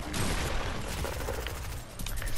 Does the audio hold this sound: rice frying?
no